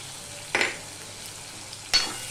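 Ginger, green chillies and turmeric sautéing in oil, a soft low sizzle with two short spatula scrapes against the pan.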